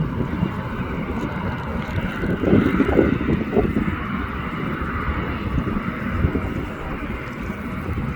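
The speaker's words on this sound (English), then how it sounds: "I can hear that the American Eagle is revving up." An American Eagle airliner's engines rev on a Boston airport runway, a steady distant roar mixed with wind noise, rising slightly midway, no talk over it.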